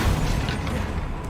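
Bombarda blasting spell cast in Hogwarts Legacy, a short dense explosive burst with a heavy low-end rumble that stays loud and sustained through the whole moment, no voices over it.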